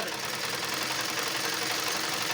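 A sewing machine back-stitching a seam on a ladies' palazzo pocket runs with a steady, fast mechanical whir and rapid needle ticking, close and continuous throughout.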